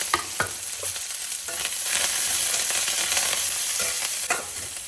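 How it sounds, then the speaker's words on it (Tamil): Cashews and peanuts fry and sizzle in a pan, loud and close, with a spoon scraping and stirring at intervals over a steady crackle and no voices. "கூடவே முந்திரி, நிலக்கடலையும் முந்திரியும் போட்டு நல்லா வறுத்துற வேண்டியது தாங்க"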